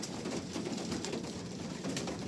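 Pigeons cooing and fluttering as they crowd together to feed, a steady busy chorus of soft bird sounds filling the whole stretch with no talk over it.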